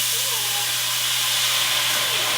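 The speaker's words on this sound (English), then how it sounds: "So we're going to deglaze this pan." White wine deglazing a hot pan, a loud, steady hiss of sizzling steam held close and unbroken throughout, with a low hum underneath.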